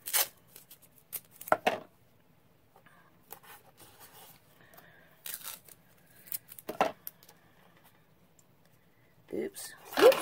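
Masking tape being trimmed with scissors, a few sharp snipping and crinkling bursts separated by quiet stretches, close and fairly soft.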